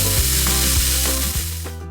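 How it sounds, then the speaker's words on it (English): Ground beef from a split package browning in a pan, giving a steady close sizzle with faint clicks and scraping of a utensil throughout, with no talking. "Here I am browning the beef, and you could also use sausage in this."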